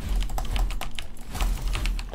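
Computer keyboard keys clatter in a quick, steady run of close, crisp clicks during a session of the game Satisfactory.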